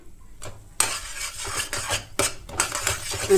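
Metal spoon scraping and clinking against a pan while matar paneer masala is stirred on low heat, with irregular scrapes and knocks close by and no voices.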